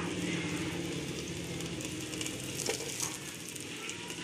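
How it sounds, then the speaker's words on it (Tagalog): Garlic and onion frying in a pan for pancit, a steady close sizzle with crackling bursts and no talk. "maglalagay tayo ng bawang sibuyas"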